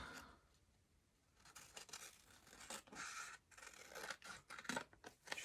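Scissors snip and trim paper at a craft desk, a run of crisp, close cutting strokes in uneven bursts after a quiet opening second, with no talk.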